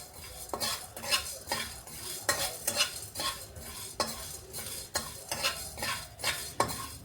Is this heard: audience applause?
no